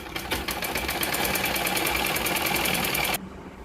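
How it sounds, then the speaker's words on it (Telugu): A sewing machine runs steadily while stitching the shoulder seams of a blouse lining, its rapid, even needle clatter loud and close for about three seconds before stopping abruptly. "అలాగే ఇది స్టిఫ్గా ఉండడానికి రెండవ కుట్టు కూడా వేసుకోవాలి"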